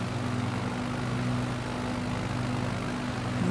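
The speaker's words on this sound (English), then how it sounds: "Knock the propeller, the engine's powered down some more." A propeller aircraft engine in Microsoft Flight Simulator 2020, throttled down during a bush flight over Nevada, drones at a steady low pitch with a constant buzzing hum that stays even throughout.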